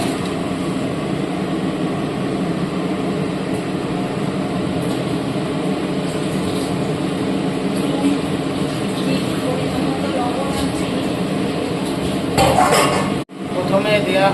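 Chicken sauce being stirred in a pan, a steady clatter of utensil against metal with faint clinks running throughout, growing louder and busier near the end.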